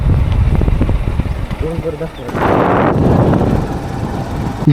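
Motorcycle riding on the road near Lonavala on the way to Rajmachi fort, a loud steady engine drone with heavy wind buffeting on the microphone and a louder surge partway through, with people talking over it.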